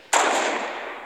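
A single sniper rifle shot in the video game Fortnite bursts out sharply and loud, then trails off in a long hissing decay, with no voices.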